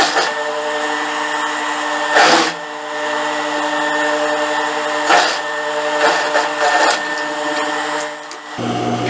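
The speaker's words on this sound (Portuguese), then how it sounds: "E agora eu vou costurar aqui o restante, ó, até a linha da cava também" A sewing machine stitching a dress seam up to the armhole line, a steady mechanical whir and hum running near and continuously, broken by a few brief louder bursts, and stopping abruptly at the end.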